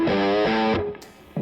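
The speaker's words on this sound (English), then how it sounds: "my Moss distortion is pretty woolly. It's more of an overdrive, but you can hear it" A guitar played through a Moss distortion pedal set to a woolly, overdrive-like tone rings out as two loud sustained chords. The sound then cuts off into a quieter decay.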